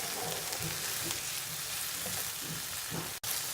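Chicken cooks with spices in a hot pan for a Pakistani-style dish, giving a dense, continuous sizzle. Soft scraping stir strokes rise and fall underneath, and there is one abrupt dropout near the end.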